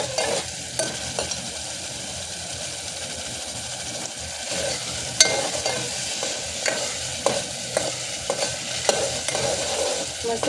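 A masala for a rustic chickpea curry roasts in a pan with a soft, steady sizzle, while a spoon scrapes and stirs in repeated close knocks and strokes, with no voices.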